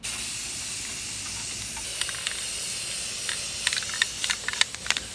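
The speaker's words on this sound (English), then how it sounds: "oh my gosh, you're overspraying on your grill" Spray paint hissing steadily from an aerosol can onto an old grill headed for scrap, a continuous broadband spray with a few short bursts and clicks near the end, close and moderately loud with no talking.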